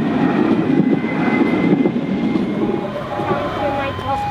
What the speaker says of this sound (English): Tram coming.